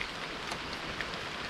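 A light rain shower patters steadily outdoors near a trekking spot by a Bali waterfall, a soft, even hiss of drops with no talking.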